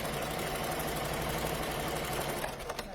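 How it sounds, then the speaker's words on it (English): A sewing machine stitching a fabric mask, its fast, steady mechanical whir running continuously at close range, with a few soft clicks near the end. "Then I'm going to sew down about halfway."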